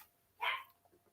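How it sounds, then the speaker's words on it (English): A dog gives a single short bark indoors, close and sharp, followed by quiet room sound. "I'm gonna grab my pup after I'll start this video and grab her so we'll reduce the barking."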